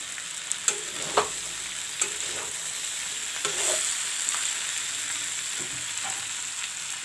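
Mixed vegetables with broccoli, carrot and capsicum frying in a pan: a steady hiss of sizzling oil with a few light stirring clicks early on, close and alone.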